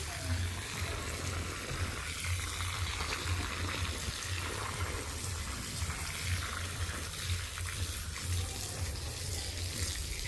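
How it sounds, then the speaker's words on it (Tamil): Water pours in a steady, continuous rushing gush that stays even and fairly close throughout, with no break in the flow. "நான் தண்ணியை வர ஊற்றி கொண்டு இருக்கோம்."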